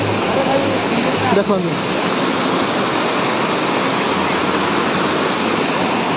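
The Patahara waterfall in Odisha roars steadily in a dense forest, a loud, constant rush of falling water with someone briefly speaking over it near the start.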